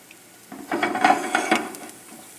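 Leftover mashed potatoes in a pan over a high flame, giving a short stretch of soft sizzling with scraping and clinks of a utensil against the pan, close up with no talking.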